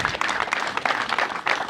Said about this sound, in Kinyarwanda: Nukuri mu nteza amashyi